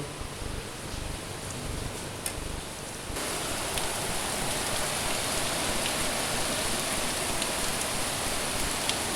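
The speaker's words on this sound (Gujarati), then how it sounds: "ફૂલ વરસાદ ચાલુ થઈ ગયો છે હમણાં" Heavy rain pours down steadily, a dense hiss of drops on surfaces that grows slightly louder partway through and continues without pause.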